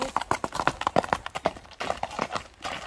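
Horse hooves clip-clopping in a quick, steady rhythm of distinct hard knocks, fairly close and moderately loud, with no talk over them.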